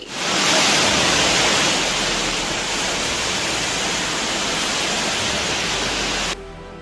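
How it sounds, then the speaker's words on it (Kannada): The Parvati River, swollen past the danger mark by continuous heavy rain in Himachal Pradesh, rushes past in a loud, unbroken roar of torrential water, dense and steady throughout, cutting off abruptly near the end. "ನಿರಂತರವಾಗಿ ಸುರಿಯುತ್ತಿರುವ ಮಳೆಯಿಂದ ಪಾರ್ವತಿ ನದಿ ಅಪಾಯದ ಮಟ್ಟ ಮೀರಿ ಹರಿಯುತ್ತಿದೆ"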